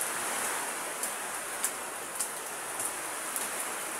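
Rain falls steadily outdoors as a soft, even hiss, with a few sharper drips or taps landing at irregular intervals; no voices.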